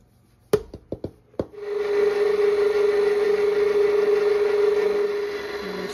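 A KitchenAid stand mixer switched on after a few quick knocks and clicks, settling into a loud, steady motor whir with a bright high whine that holds for several seconds, no voices.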